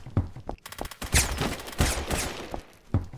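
Gunfire in the AdventureQuest Worlds video game, a loud close flurry of rapid shots and bursts with whooshing bullet passes, heard alone without talk.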